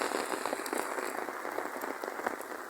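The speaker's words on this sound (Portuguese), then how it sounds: "a barra da chuvinha" Light rain falls steadily and evenly nearby, a soft continuous patter of small drops with no voices.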